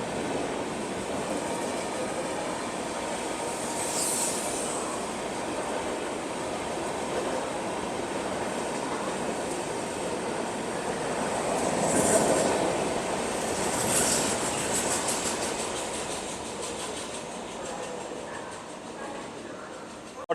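A Patna Tejas Rajdhani Express passenger train runs past at steady volume for about twenty seconds, with a continuous rumble, rail noise and faint wheel squeal, swelling briefly as it passes closest; a voice speaks lightly in the background.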